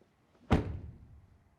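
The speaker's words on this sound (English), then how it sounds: "Let's start with the door closing sounds." An Audi RS5 door swings shut with a single solid, deep thunk, close and clean, followed by a short fading resonance in an otherwise quiet setting.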